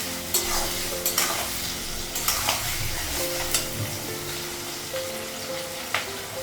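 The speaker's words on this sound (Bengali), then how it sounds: "আলু আর পেঁয়াজটা একটু ভেজে নেব" Potatoes and onion frying in a pan for a Bengali home-cooked meal, with a steady sizzle throughout and repeated scraping stirs of a spatula against the pan, close and alone with no talk.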